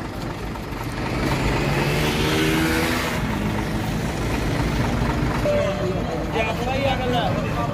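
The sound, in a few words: car driving away carrying a goat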